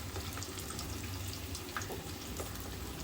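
Kebab pieces sizzle steadily in hot oil in a pan, a dense, even crackle and hiss that stays loud and constant throughout, with no voices.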